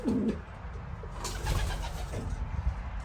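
A racing pigeon coos close by in soft, low, throaty phrases, with faint background noise and no talking.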